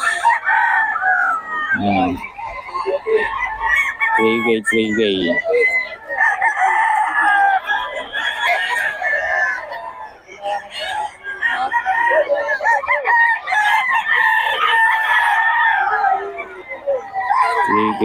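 Gamecocks and chickens at a rooster sale in Bocaue crow loudly and repeatedly at close range, with several crows overlapping across the whole stretch. People talk now and then between the calls.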